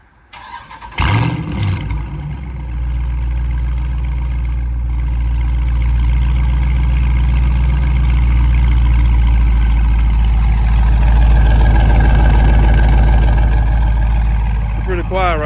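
A Dodge Charger Scat Pack with a catless exhaust cranks and fires up from warm, then its loud V8 rumble holds at idle and swells as revs climb in steps, with someone talking over it.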